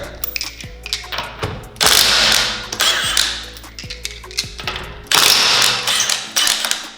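Milwaukee 1/2 inch impact wrench on its highest setting, loud rapid ratcheting hammer bursts in several separate runs with short pauses between, close and alone.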